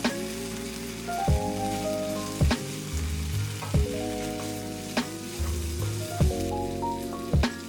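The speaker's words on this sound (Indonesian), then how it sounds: "siapkan wajan besar, tambahkan sedikit minyak, dan tumis bumbu yang tadi sudah kita blender" Blended spice paste sizzling and frying in a little oil in a large wok, a steady dense crackle with a metal spatula scraping and clanking against the pan at regular intervals.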